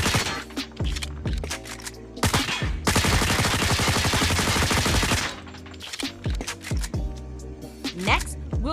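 The L-CAR 9 pistol in COD Mobile fires a rapid, loud stream of shots for a couple of seconds, with scattered single shots before and after.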